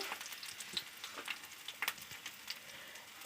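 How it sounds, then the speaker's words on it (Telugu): Tempering spices, including garlic and chillies, crackle and sizzle in hot oil, a steady frying hiss with small sharp pops scattered throughout, close by and moderately loud. "తాలింపు సామాలు ఇట్లా బాగా వేపుకోవాలి"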